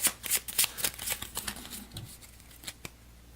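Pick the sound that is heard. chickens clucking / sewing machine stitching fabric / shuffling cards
shuffling cards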